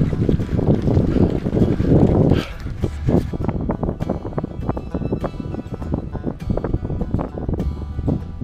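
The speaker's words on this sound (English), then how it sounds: "there's a lot of wind up here" Strong wind buffets the microphone on the final gravel climb of a Tour de France stage ridden by bike, a loud continuous roar that dips slightly after the first couple of seconds.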